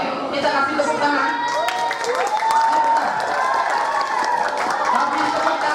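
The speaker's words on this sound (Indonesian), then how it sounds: "Oke, kita kasih tepuk tangan." Students at a school sex-education training session break into lively applause. Cheers and shouts mix into the steady clapping of a full room.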